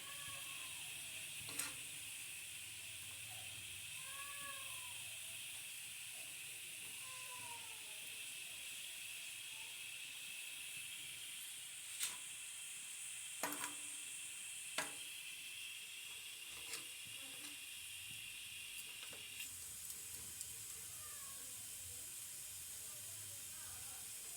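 Vegetable paratha filling with sugar cooking in a pan, a soft steady sizzle and hiss with occasional light clicks of stirring, faint and continuous.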